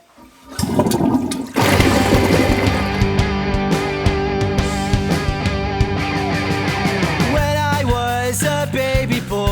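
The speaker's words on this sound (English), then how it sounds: "And flush it!" A toilet flushes loudly and close, a sudden rushing surge of water that swells and then keeps churning steadily with gurgles for several seconds, with no talking over it.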